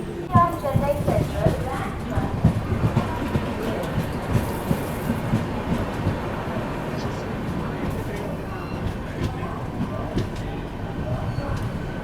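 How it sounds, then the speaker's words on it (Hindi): A Humsafar Express passenger train on the Rameshwaram–Firozpur route rolls again near Warangal, its wheels clattering in a steady rhythmic clack under the rumble of the carriage, heard from inside, with voices talking over it. "अभी वापस से ट्रेन चल गई है"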